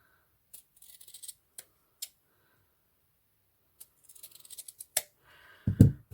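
Scissors snip through ribbon for a hair bow in several short, soft cuts and clicks, ending with a brief louder rustle close by, and no talking.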